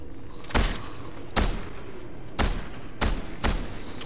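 Gunshots in the Fortnite video game: four sharp, loud separate reports spaced unevenly over a few seconds, with a low steady game background between them and no talk.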